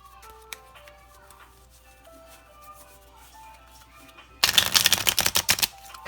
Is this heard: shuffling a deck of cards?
yes